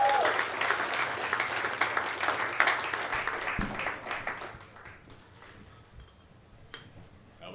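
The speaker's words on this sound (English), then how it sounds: "I want you guys to make a lot of noise for Justin Moores, everybody!" Comedy club audience applauding and cheering for a comedian being introduced, a loud dense burst of clapping that tapers off over several seconds into quieter room noise.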